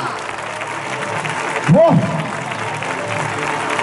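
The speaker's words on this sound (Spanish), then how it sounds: "¡Un aplauso a ese tío, gente!" A crowd at a bullfighting event in Gelsa, Zaragoza, applauds in a steady wash of clapping, with a man's brief exclamation rising above it midway.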